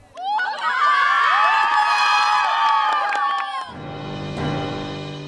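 Young horse riders shout and cheer joyfully for their instructors at a riding-school celebration with flowers: a loud, dense crowd of high-pitched cries and whoops, then a quieter, tonal stretch near the end.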